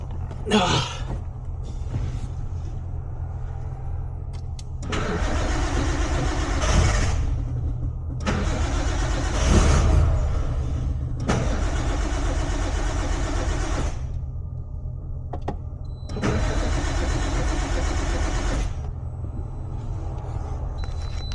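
A Nissan Skyline R32 GTS-t engine cranks and catches, then runs with a steady rumble, revving up in several surges before settling back to idle.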